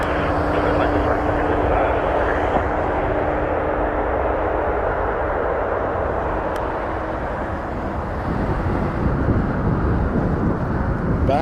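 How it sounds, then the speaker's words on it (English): A United Express Embraer E170 arriving from Newark lands at Toronto Pearson, its loud, steady jet roar filling the air throughout, with voices faintly mixed in. "Behind this, we have an E170 coming in from Newark, United Express 3553"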